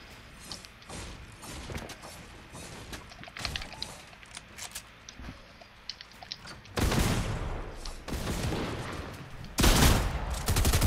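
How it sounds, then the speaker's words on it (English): Shotgun fire in the video game Fortnite amid a close-range fight, scattered sharp blasts and clatter under game noise, then heavier bursts of loud booming shots toward the end. "who's using that shot? You like it, Robbie? I can't use it. That double shot"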